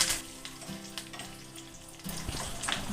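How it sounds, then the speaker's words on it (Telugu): A broken dried red chilli and a sprig of curry leaves hit a spoonful of hot oil for a chutney tempering, making a close, steady crackling sizzle that swells briefly near the end, with no talking. "తర్వాత ఒక ఎండుమిర్చి ఈ విధంగా చిన్నగా తుంచి వేసుకోవాలి. ఒక రెమ్మ కరివేపాకు వేసుకుందాము."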